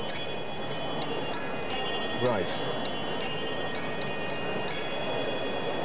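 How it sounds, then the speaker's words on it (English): An antique quarter-striking clock strikes the hour, its bright bell-like tones ringing in a steady sequence of sustained metallic notes, with someone briefly speaking partway through. "we should hear the hour now."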